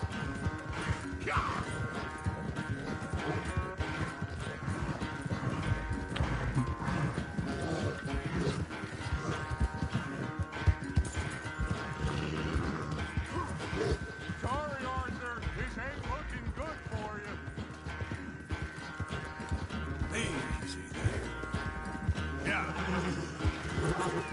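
Horse galloping in Red Dead Redemption 2, a dense rapid hoof drumming with occasional neighs under steady game music and a talking player, loud throughout.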